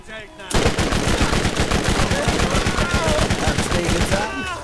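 P90 submachine gun fired in the video game Borderlands, a loud, rapid, continuous burst of evenly spaced shots lasting about four seconds, close and dominant.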